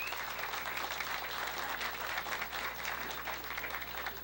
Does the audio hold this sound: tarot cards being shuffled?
no